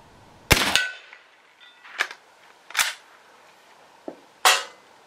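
Air rifle with a 24-inch barrel firing 36-grain hollow point pellets, several sharp cracking shots at irregular intervals, loud and close, with quieter clicks between them.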